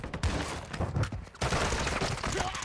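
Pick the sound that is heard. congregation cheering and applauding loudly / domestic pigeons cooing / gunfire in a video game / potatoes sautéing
gunfire in a video game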